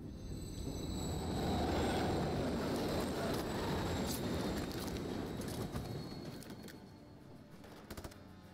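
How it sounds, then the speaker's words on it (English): A train rumbles past at close range in the Call of Duty MW3 campaign, a loud, dense low roar with rattling and metallic squeal that swells, holds, then eases off toward the end. "It's gonna get intense if a train comes."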